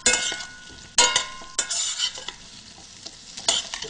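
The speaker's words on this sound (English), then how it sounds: "Carrots get a stir." Carrots stirred in a hot pan alongside a New Zealand lamb dish, a spoon scraping and clinking in rapid bursts over a steady close sizzle, with no talking.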